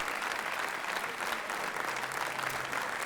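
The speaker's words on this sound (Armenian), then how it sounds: "Սպորտային մեկնաբան Արամ Սահակյան, եկեք բարձր ծափարենք։" Studio audience at a TV talk show clapping loudly for an arriving guest, dense sustained applause filling the room without a break.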